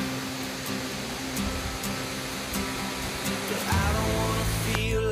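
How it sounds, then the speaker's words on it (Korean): Jaein Waterfall, formed from hardened lava in the Hantangang geopark in Yeoncheon, pours off a basalt cliff as a steady broadband roar, with a lower rumble swelling near the end. "평지에서 아래로 떨어지는 폭포랍니다."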